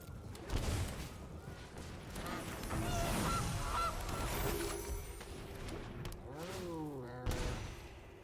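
Honking goose calls from a digital card game blend into busy game sound effects and a steady electronic backdrop, with gunfire-like bursts and a voice talking over them.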